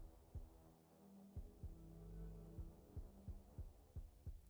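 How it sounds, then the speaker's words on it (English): Low, rhythmic heartbeat pulses in the video game Shin Megami Tensei V, evenly spaced thuds layered over a sustained humming drone, fairly quiet and with no talking. "I love how the heart sounds like a heartbeat."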